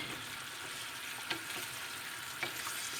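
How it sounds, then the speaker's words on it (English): Shrimps sizzle in a pan as prepared sauce is stirred in for a shrimp and noodle dish, a soft, steady frying hiss with a couple of faint stirring clicks. "we add the sauce which we prepared, and we mix that in with the shrimps"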